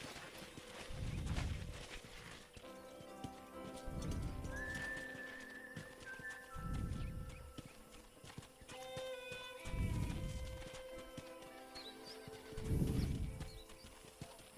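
A horse in Red Dead Redemption neighs and whinnies while hooves clip-clop at a steady walking pace, with a low rhythmic thudding and occasional whistle-like tones throughout.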